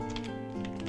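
Brief, soft tapping of keys on a computer keyboard: a few quick keystrokes, quiet and close, over a faint background hum.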